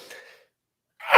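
A single sharp, loud sneeze bursts out at the end after a brief intake of breath and a pause, set off by cigar smoke.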